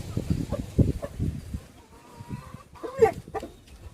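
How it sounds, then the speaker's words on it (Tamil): Chickens cluck around a white hen with her chicks at a home yard, short irregular clucks and calls rising near and moderately loud, with brief bursts against a quiet background. "வெள்ளைக்கோழி இருக்குது"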